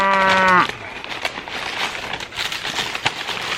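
A single loud cow moo with a long harmonic low call lasting about half a second, followed by quieter background noise and faint scattered sounds.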